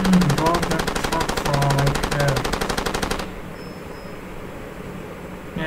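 Machine gun firing in the video game Far Cry 2, a loud rapid sustained burst of shots for about three seconds that cuts off abruptly, leaving quiet background noise.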